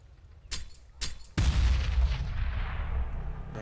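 A grenade detonates in Counter-Strike: Global Offensive during a Gambit vs Immortals match on Inferno at the PGL Krakow 2017 Major final, a loud booming blast after a couple of sharp clicks, with rumble lingering for several seconds.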